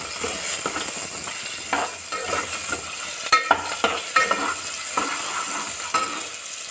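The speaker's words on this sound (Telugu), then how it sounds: "ఇప్పుడు మొత్తం అల్లం చక్కగా కలుపుకోవాలి" Ginger is stirred in a hot frying pan for a tomato and brinjal curry, a continuous loud sizzle with rhythmic spatula scrapes and occasional clinks against the pan.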